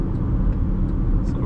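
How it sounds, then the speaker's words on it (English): A 2020 Chevy Equinox LT with a 2.0L turbo engine slows under braking, giving a close, steady low rumble of road and cabin noise that stays even throughout without talk. "Do a braking test right here."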